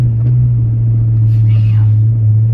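A modified Dodge Jeep SRT's exhaust gives a deep, steady low rumble from inside the cabin, loud and continuous, with a brief voice over it.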